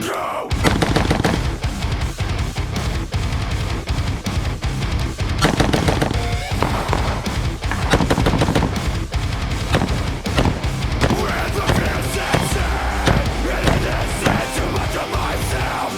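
Rapid rifle fire from a gun fitted with a Geissele SSA-E X trigger, loud sustained bursts of fast shots running nearly continuously with brief pauses, close and dense with no talking.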